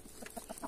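Chickens on a small farm cluck in a few short, soft bursts at close range, with no talking over them.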